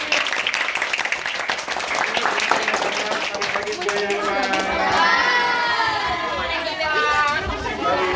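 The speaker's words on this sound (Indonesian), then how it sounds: "Tepuk tangan untuk kita semua" Children on a school study tour clap and cheer in a busy crowd, applause and excited shouting up front giving way to lively chatter and overlapping young voices.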